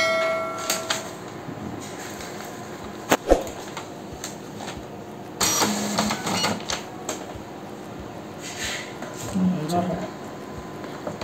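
An Epson LQ 2190 dot matrix printer running after being switched on, giving off intermittent mechanical clicks, clunks and short buzzing carriage movements in a quiet room, with people talking softly at times.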